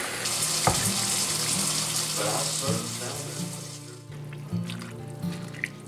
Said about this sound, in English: we're gonna put the collard greens in, then I'll add some water